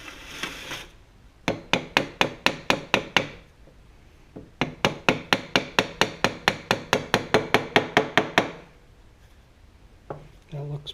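Repeated sharp taps drive a steering gear seal into place on a 1966 Ford Galaxie 500 convertible, with two long runs of evenly spaced, close hammer strikes separated by a pause, then brief quieter knocks near the end.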